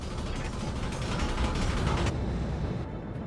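A Centurion mech in the RogueTech BattleTech game grinds along with a rough, rattling mechanical clatter like a knocking engine, loud and continuous for a few seconds with no speech over it.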